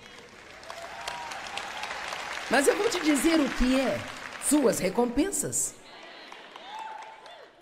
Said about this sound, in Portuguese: Só tem uma pessoa aplaudindo isso.